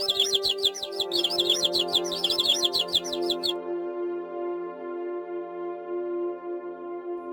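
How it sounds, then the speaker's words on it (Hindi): A dense flutter of many small birds chirping briskly for about three seconds, then cutting off and leaving only a sustained musical tone beneath, like a story sound effect of a flock taking flight. "अचानक सारे पक्षी उड़ गए।"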